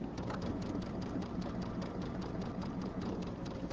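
A sewing machine stitches steadily while quilting a table runner in the ditch, its motor humming with a fast, even needle rhythm, close and continuous with no talk.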